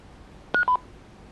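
A counterfeit Icom IC-V80 handheld radio powers off with two quick electronic beeps, one after the other, at a different pitch each, clear against near silence.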